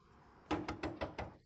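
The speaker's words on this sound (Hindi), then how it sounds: "खटखटाना बंद करो।" Five quick knocks on a door, spaced evenly, rap close and firm in an otherwise quiet indoor setting.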